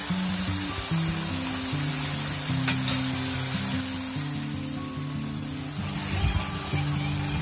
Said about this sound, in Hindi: मसाला देखिए पूरा भून रहा है